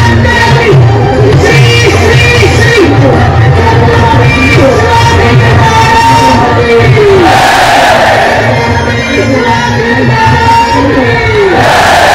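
A huge crowd roars and chants in unison at the Raigad fort coronation ceremony, loud close shouting and cheering sustained throughout, with individual voices rising above the mass.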